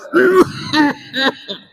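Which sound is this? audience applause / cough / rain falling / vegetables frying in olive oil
cough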